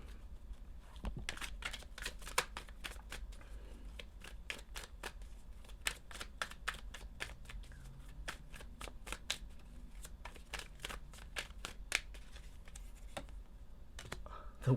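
Tarot cards shuffled and pulled from the deck: a steady run of crisp, close papery snaps and riffles across the whole stretch, with faint talk in the background.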